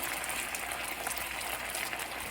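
Mushroom and tomato risotto simmering in a pan, a soft, steady bubbling and gentle hiss, faint and continuous with no voices.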